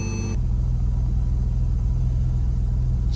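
Cold Porsche engine catching right away and settling into a loud, steady idle, with a deep continuous rumble close by and no voices.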